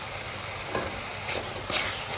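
Ground spices sizzle and fry in oil in a pan for egg curry, a steady bright hiss with a few louder stirring scrapes.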